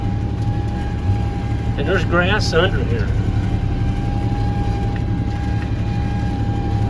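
Tractor-mounted Green Goat mulcher chopping invasive Autumn Olive trees on farmland, a steady loud low engine-and-cutter drone with a constant tonal whine throughout, someone talking briefly over it.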